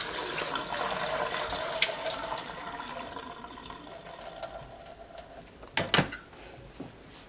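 Water from cooked turkey neck drains into a kitchen sink as a steady, faint running splash, with a brief louder clunk near the end.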